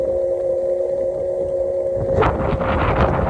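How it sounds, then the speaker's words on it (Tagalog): Steady wind buffeting the microphone over a low engine drone, with gusts turning rougher and louder toward the end. "Lakas ng hangin ngayon guys, grabe."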